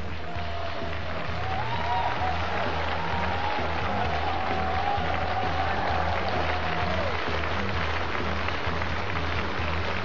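Audience applause welcoming a competitor at a CKA league match in the 80 kg class, a steady, fairly quiet wash of clapping that carries on throughout with a faint tone passing through the middle.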